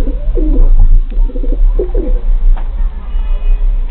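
Pigeons coo in a pigeon loft, a steady run of soft, throaty calls from several birds close by, with a low rumble underneath.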